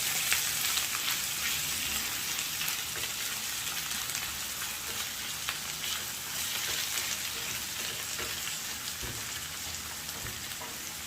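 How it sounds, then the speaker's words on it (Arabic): Liver frying with onion in a pan, a continuous crackling sizzle like rain with soft scraping as it is stirred, steady and close. "اذا كنحرك"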